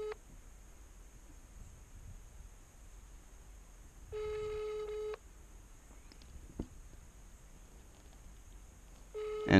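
Cell phone ringback tone on a call to a home number, a single long tone burst heard alone at moderate level, with a quiet background and another tone starting at the end.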